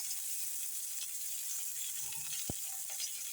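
Curry spices fry in a pan with green chilli and ground cumin, chilli and ginger paste before shing fish is added, making a soft, steady hiss and sizzle with a faint stirring clink.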